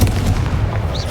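A dense rumbling blast of the Confringo spell in the video game Hogwarts Legacy, loud and continuous with a brief high chirp near the end.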